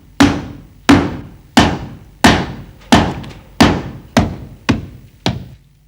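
Gold beater's 5 kg hammer striking gold leaf by hand, nine heavy, evenly spaced thuds about two-thirds of a second apart, each loud close blow followed by a short ringing decay, with no talk.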